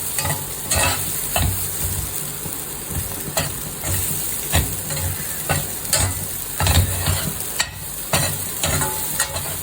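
Mixed vegetables sizzle and are stirred with salt in a hot pan for a traditional South Indian lunch, dense steady frying with repeated scraping strokes of a spoon at a close, moderately loud level, no talking.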